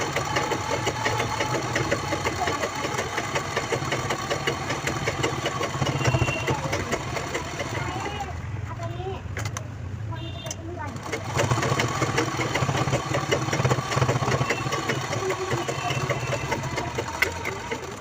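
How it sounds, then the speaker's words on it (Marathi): Sewing machine running a second line of stitches on a shopping bag made from a blouse piece, a steady close mechanical whir with a brief pause midway, with talking over it. "आपल्याला अजून एक शिलाई लावून घ्यायची आहे"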